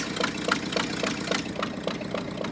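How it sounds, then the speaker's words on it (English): Engine of an old Ford truck, abandoned for 39 years, idling with a rough, rapid, uneven chug and ticking knock, close and steady without talk. "It's idling. Didn't even touch the carb."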